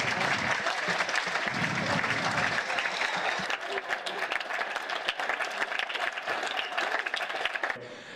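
A crowd applauds at the North Shore Squash Club after the 2020 New Zealand men's squash championship final. Dense, sustained clapping thins toward the end.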